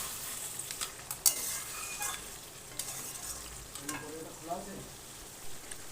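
Crab curry with onion, tomato, green chillies and elephant foot yam stalks stirred in a pan, a steady frying hiss with occasional scrapes and knocks of a spoon, close by and fairly loud.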